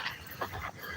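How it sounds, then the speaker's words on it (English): Dogs, huskies among them, at an outdoor dog park, giving short yips and whimpering cries at moderate distance over a steady low outdoor rumble, with no talk. "Checking out the dogs here."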